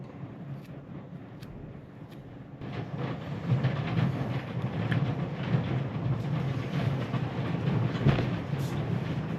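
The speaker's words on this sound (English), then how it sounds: "you guys can hear all the rain and thunder out there" A continuous low rumble of heavy rain and distant thunder, growing louder after a few seconds and rolling on steadily.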